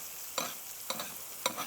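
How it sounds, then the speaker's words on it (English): Butter spooned over frying egg whites in a hot pan for a banh mi burger, three distinct splashing sizzle bursts against a steady background hiss, close and moderately loud, no talking. "we just kind of baste those whites"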